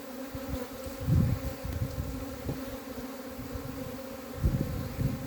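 Buckfast honey bees swarm around an opened hive in a steady, close buzzing drone, with louder swells as individual bees pass near, and no talk.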